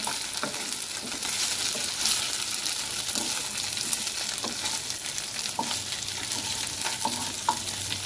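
Fish pieces fry in shallow oil over a low flame, giving a steady, close sizzle with soft crackles and occasional stirring or scraping sounds throughout, with no voices.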